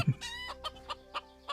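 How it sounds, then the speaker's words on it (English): Chickens in Minecraft, a game sound effect: a string of clear clucks comes at a regular, spaced rhythm, moderately loud, with nothing else around them. "Got the chickens calling in the background there as well"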